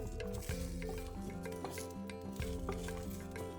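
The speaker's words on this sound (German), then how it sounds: "Und in dieselbe Pfanne hüpfen jetzt meine Pekannüsse." Pecans toast in a frying pan, making close stirring, scraping and soft sizzling sounds over background music, with no talking.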